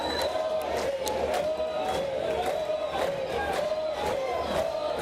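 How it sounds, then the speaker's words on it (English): Fans at the Little League Baseball World Series game between Curaçao and Venezuela cheer and chant in a loud, continuous crowd roar, punctuated by rhythmic claps or beats at regular intervals. "Crowd into it."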